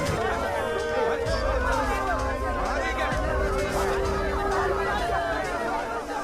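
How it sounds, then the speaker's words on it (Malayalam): A large crowd of prisoners' relatives and locals gathered at a prison gate, heard as a dense, continuous babble of many overlapping voices, close and steady throughout. "തടവുകാരുടെ ബന്ധുക്കളും നാട്ടുകാരും കൂടി വലിയൊരു ജനക്കൂട്ടം തന്നെ ഗേറ്റിന് മുൻവശത്തുണ്ട്."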